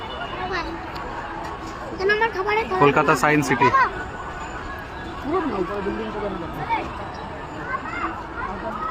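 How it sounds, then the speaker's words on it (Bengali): A dense crowd murmurs at Kolkata Science City near the ropeway and rocket display, a steady babble of many voices filling the space while a nearby person speaks over it. "প্রচুর লোক প্রচুর ভিড়"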